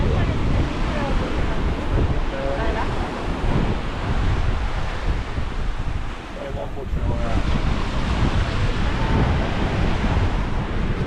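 Ocean surf rolls onto a beach near Mayan ruins, a broad continuous wash heard amid heavy wind buffeting on the microphone, while people talk nearby.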